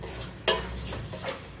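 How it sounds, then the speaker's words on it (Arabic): Chicken pieces being turned in a frying pan: a soft steady sizzle with a sharp utensil scrape near the start and lighter stirring sounds later, close and moderately quiet. "صافي نبداو نقلبوا الدجاج ديالنا بحال هكا"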